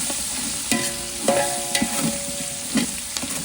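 Bottle gourd, tomato and drumstick sauté for sambhar while a spoon scrapes and clanks against the pot several times over a light sizzle, close and clear.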